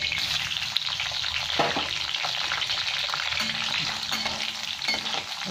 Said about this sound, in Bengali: এই তেলের মধ্যে আলুগুলো ভেজে নেবো এরকম লাল লাল করে।